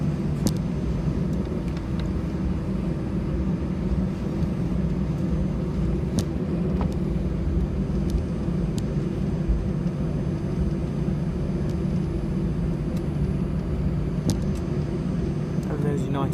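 A United Boeing 767 airliner passes with a steady, broad low rumble that holds at an even level throughout, carrying a few faint higher tones above it.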